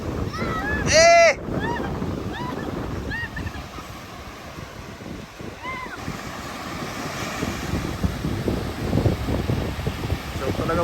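Big ocean waves and surf washing onto a beach where people are swimming, a steady roaring wash with wind buffeting the microphone, a brief whistle or squeal near the start and distant voices underneath.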